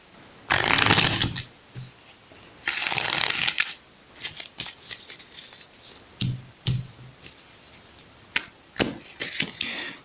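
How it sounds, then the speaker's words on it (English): Tarot cards are shuffled close up in two long riffling bursts, followed by quicker irregular snaps and flicks of the deck, with faint background hiss between them. "Okay, let's shuffle."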